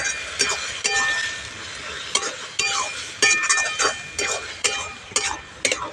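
Ground cabbage paste is stirred into softened potato and onion in a pan, with repeated scraping spatula strokes, light clinks against the metal and a faint sizzle underneath.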